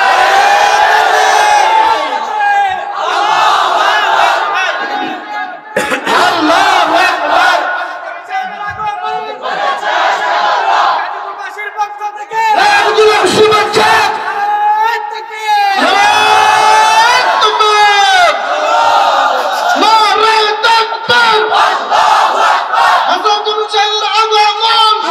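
A large crowd at an Islamic sermon gathering shouts the takbir in unison, loud roaring chants that rise and fall in repeated waves, with a lead voice calling between them.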